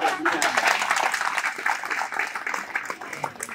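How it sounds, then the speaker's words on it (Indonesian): Audience applause at a church gospel anniversary celebration, a lively round of clapping with voices talking and calling out over it, fluctuating in strength throughout. "tepuk tangan dulu"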